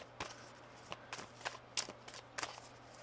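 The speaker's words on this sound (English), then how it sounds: "One more shuffle." Tarot cards being shuffled by hand, heard as about six short, soft papery riffles spaced irregularly and close by in a quiet room.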